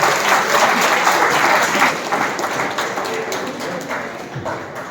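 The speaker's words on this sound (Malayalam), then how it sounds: "ഈ കയ്യടി പോരാ, കുറച്ചുകൂടി നന്നായിട്ട് കഴിയണം." A parish day audience claps after a drama skit, a full, steady wash of applause from a crowd that carries on evenly and softens slightly toward the end.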